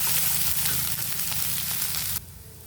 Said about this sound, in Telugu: కరివేపాకు, అదేవిధంగా క్యాప్సికమ్ ముక్కలు వేసి ఫ్రై చేసుకుందామండి